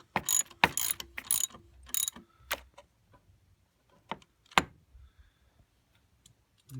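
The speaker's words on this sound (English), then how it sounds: "So right now we're just going to tighten up the fan belt pulley, which the fan belt adjustment is on." A ratchet tightening the locking nut on the fan belt pulley of a Toyota Landcruiser: quick bursts of close, crisp clicking at first, then slower scattered single clicks and taps with quiet gaps between.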